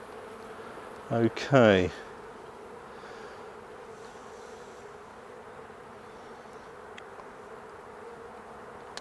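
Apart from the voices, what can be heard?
honeybee colony buzzing during hive inspection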